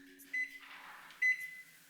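A microwave oven cooks a covered mug meal of Southern spoon bread, giving a steady low hum with two short bright beeps, then quiet.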